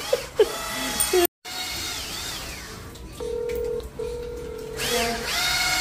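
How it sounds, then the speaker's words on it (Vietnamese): A power drill bores a hole during the removal of a washing machine from an old house, its motor whining in several bursts with rising and falling pitch and a brief cut-out, plus a few steady electronic tones. "Khoan cái lỗ"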